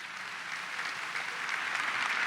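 A congregation applauds during Mass in a church, a dense, steady patter of many hands clapping throughout, fairly even in loudness with no voices rising above it.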